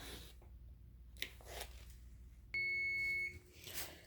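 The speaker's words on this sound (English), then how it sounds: "the 20-minute alarm is going off" Kitchen timer set for 20 minutes going off: a steady, shrill electronic beep starts abruptly and holds for nearly a second over low room noise, with faint rustling before and after.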